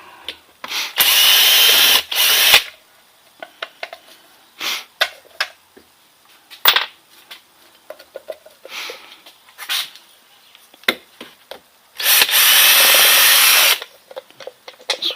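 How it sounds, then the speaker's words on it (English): An electric drill whirs in two loud sustained bursts while removing the bottom-end clutch screws of a Yamaha Blaster, separated by a long stretch of clicks, clatter and handling noises. "Alright, I got the drill."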